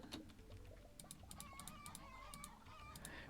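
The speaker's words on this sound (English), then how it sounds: "We need chickens." Video game chickens cluck in short repeated bursts, fairly quiet, with a low steady hum underneath and no voices.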